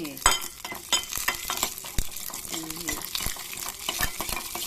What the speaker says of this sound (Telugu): తాలింపు కమ్మగా వేగింది కదా